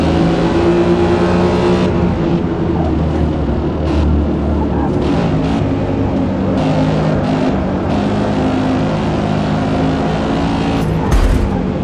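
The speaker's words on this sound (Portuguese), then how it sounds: "Mas o barulho do motor dele é muito maneiro, é gostoso de ouvir." A muscle car engine in the racing game Forza Motorsport, a loud, continuous deep engine roar with shifting revs and acceleration surges, steady and close throughout.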